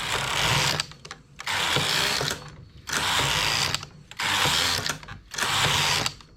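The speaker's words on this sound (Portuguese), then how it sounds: "Faço uma carreira com todas as agulhas trabalhando, tanto frontura quanto máquina" A knitting machine carriage with a ribber knits a row with all needles working, giving a loud mechanical clattering whir in repeated bursts of about a second each, separated by short pauses, close up with no voices.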